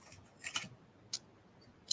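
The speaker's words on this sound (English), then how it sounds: "I have to trim those a little bit more." Scissors trimming paper for a card drawer box craft project, a few quiet snips spaced apart, faint and close with no voices.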